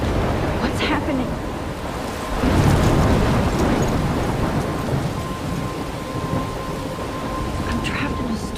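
Thunderstorm in the video game Life is Strange: steady heavy rain hiss with a loud rumbling thunder surge around the middle, fading back to continuous downpour.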